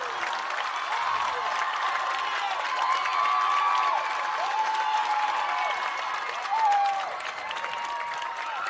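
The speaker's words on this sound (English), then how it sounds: "And listen to this crowd." Football crowd at a Ripon High School game against Mauston roaring and cheering after a Tigers touchdown, a steady dense wall of applause and shouts with a few whistles rising above, loud and sustained.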